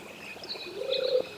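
Synthesized water effect built on a synthesizer, a soft bubbling trickle with a brief liquid gurgle and faint chirpy tones, quiet and close, no talking.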